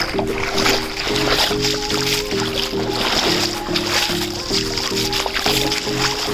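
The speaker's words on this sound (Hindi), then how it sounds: "तो मैं चलता हूँ थोड़ा सा पानी में।" Footsteps splashing through shallow water at Safi Beach in Bujumbura, Burundi on a morning walk, with repeated sloshing and splashes close by while a steady tonal hum and background sound run underneath.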